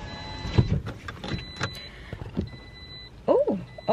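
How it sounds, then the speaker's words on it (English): Electric power window motor on a car raising the glass as rain starts, a couple of brief whirring strokes over faint background with a voice speaking near the end. "Let me put my window up"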